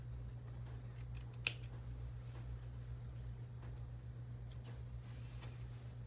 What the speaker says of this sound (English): And trim this one down a little bit.